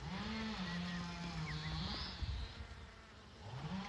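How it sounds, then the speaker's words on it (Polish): A wild bee buzzes steadily nearby, its pitch wavering up and down, with faint outdoor background noise. "słyszę coś tutaj bzyczy"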